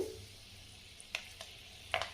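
Urad dal sizzling in hot oil as tempering for mango pickle, a faint steady hiss broken by a few soft crackles and pops.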